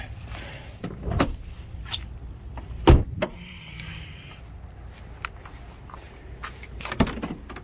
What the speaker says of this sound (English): Let me open the hood.